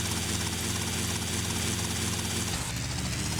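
A steady, loud helicopter engine drone with rotor thrum in the GTA Tightened Vice mod, continuous throughout and shifting slightly near the end, with no talking.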